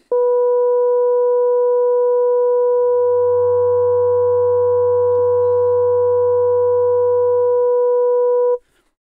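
An FM synthesizer operator stack holds one steady electronic tone for about eight seconds. Partway through, a low hum and extra sideband overtones swell in and then fade before the tone cuts off, with no talking.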